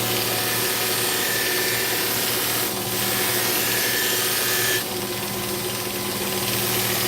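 A cardboard buffing wheel polishes a knife blade in a workshop, making a steady, loud whirring hiss with a continuous motor hum and brief changes in pressure as the blade is worked against the wheel.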